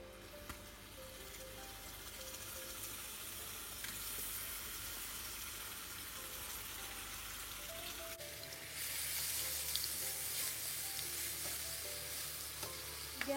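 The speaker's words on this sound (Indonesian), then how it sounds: "Tumis bumbu yang sudah dihaluskan." Ground spice paste sautés in a non-stick wok, giving a soft, continuous sizzle with stirring scrapes, growing a little louder partway through; no one speaks.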